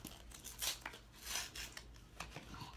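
Scissors snipping through packaging while a popsocket order is unboxed, quiet crisp cuts mixed with plastic crinkling and rustling, close by.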